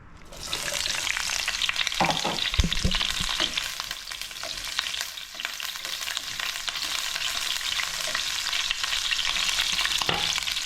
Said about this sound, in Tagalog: Niluto ko lang yung ating onion